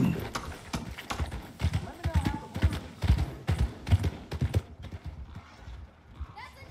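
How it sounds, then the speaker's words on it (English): Horses walking in the video game Red Dead Redemption 2, a steady clip-clop of hooves close by and fairly loud, with a brief whinny and faint background sounds. "Horses, five horses"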